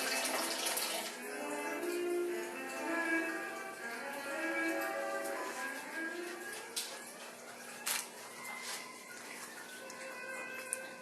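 Steady running water pouring and splashing into a fish tank holding a sea trout, continuous and fairly close, with a few brief clinks.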